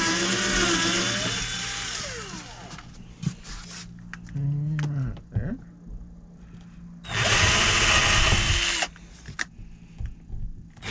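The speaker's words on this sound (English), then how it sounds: "So I'm gonna go ahead and drill those holes just to get the first screw in." A power drill bores screw holes during a tiny-home closet and bathroom remodel. The motor whines up and down in several separate bursts with short pauses and clicks between them, close and loud.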